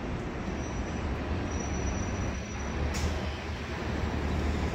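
A train rumbles past in downtown Detroit as a broad, steady roar of wheels and city noise, moderately loud and continuous with no talk.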